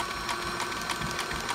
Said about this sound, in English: Now we're gonna switch to zigzag. This is going to switch you to the zigzag stitch.